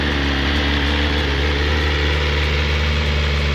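A brand-new, bone-stock BMW motorcycle engine idles steadily close by, a continuous low rumble with a faint regular pulse and no revving.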